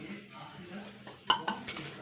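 A spoon mixes tomato pakora batter with spices and water in a bowl, giving soft scraping and a few sharp metallic clinks against the dish, close, with someone speaking over it.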